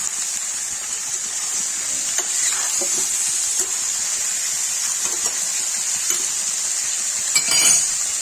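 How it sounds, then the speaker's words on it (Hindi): Steady sizzling of potato and cauliflower frying in a pan, with occasional scraping and light clinks as it is stirred, continuous and fairly close. "इसमें नमक डाल के इसको चला देंगे।"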